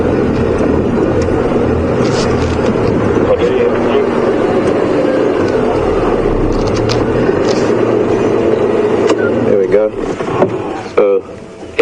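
Safari vehicle engine at Djuma Game Reserve, reversing and angling back and forth on a dirt track: a loud, steady idling rumble dominates throughout, with brief clunks near the end and people talking over it.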